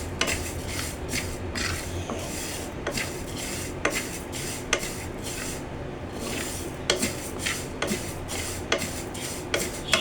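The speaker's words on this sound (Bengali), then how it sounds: "আচারের জন্য মশলাগুলো ভেজে নিচ্ছি।" Spices for a raw mango oil pickle being dry-roasted in a pan, with steady scraping and rattling from a spoon stirring through the dry seeds, plus sharp clinks against the metal, close and continuous.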